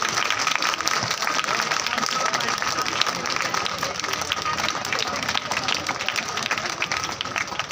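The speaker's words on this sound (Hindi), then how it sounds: "तालियां बननी चाहिए बेटा।" A school hall audience applauds a guest at a felicitation function, loud dense clapping continuing steadily throughout without pause.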